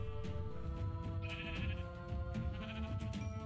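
Minecraft sheep bleat in the game, a couple of clear nasal baas over a steady layer of game background sound, with no talking.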